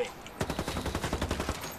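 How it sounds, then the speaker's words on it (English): Rapid automatic gunfire in the video game Ghost Recon Wildlands, a fast evenly spaced burst of about a dozen shots lasting just over a second, moderately distant and unaccompanied by talk. "Who's shooting?"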